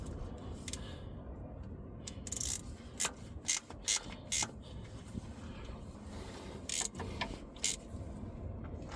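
A torque wrench ratchets bolts tight on a Case CX210 excavator, giving faint clicking bursts in short groups over a low background hum.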